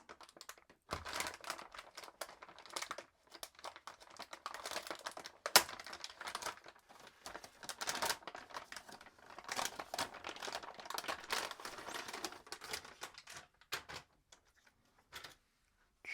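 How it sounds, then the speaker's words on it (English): A tape-sealed MSI RTX 5070 Ti graphics card is unwrapped from its packaging, giving a long run of close, soft crinkling and rustling with brief pauses and one sharper snap midway. "Let's unwrap the GPU. It is sealed with a piece of tape."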